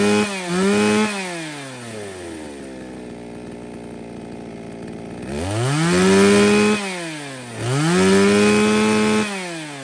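A used Japanese Kioritz chainsaw runs close by, idling low, then revving hard twice with rising and falling engine pitch before settling back down.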